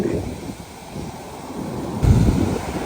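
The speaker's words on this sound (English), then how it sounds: "how big some of these waves can actually get when they're coming in" Cold ocean waves roll in on a beach along the Victoria coast in Australia, a continuous washing roar under gusty wind buffeting the microphone, swelling as a bigger wave breaks near the end.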